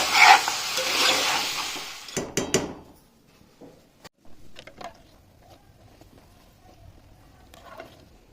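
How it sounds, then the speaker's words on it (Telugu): Water poured into a pot of curry makes a loud rushing hiss at first, followed by a few sharp metal clanks and scrapes of stirring, then quieter intermittent clinks. "ఇది దీంట్లో ఎసరు పోసి కూరలు కలుపుతాను."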